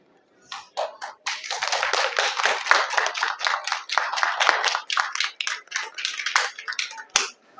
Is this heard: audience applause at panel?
yes